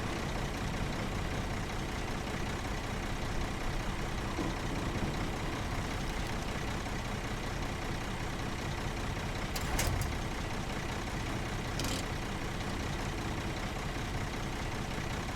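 A truck lying on its side after a rollover keeps its engine running, a steady, unbroken drone that fills the scene evenly and at close range, with no talking over it.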